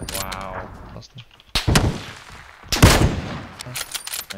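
Two loud, sharp Kar98 rifle shots in PUBG, roughly a second apart, each followed by a short echoing tail, with quieter game sounds and faint talk in between.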